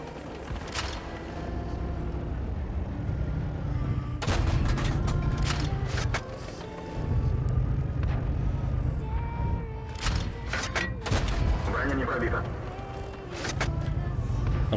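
Tank cannons fire in the World of Tanks Blitz video game, KV-220 T and Churchill heavy tanks among them. Several sharp booms and thuds land over a continuous engine rumble, with a few shots clustered near the end.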